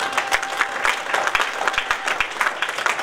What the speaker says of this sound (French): Est-ce que nous pouvons donner une forte acclamation?